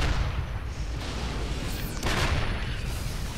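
Siege tanks shelling in a StarCraft-style real-time strategy game, with dense continuous booming and explosive impacts, including a sharp burst near the middle, all loud and close.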